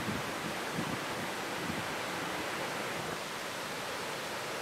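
Waterfall in Iceland pouring steadily, a dense, continuous roar of rushing water with no breaks and no voices.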